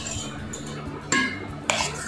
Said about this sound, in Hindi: फिर हम इसमें अपना दही और शक्कर डालेंगे।